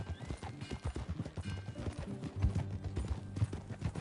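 Horse hooves clip-clop steadily in Red Dead Redemption 2, a rhythmic run of close, fairly loud footfalls with a brief whinny mixed in and no clear talk.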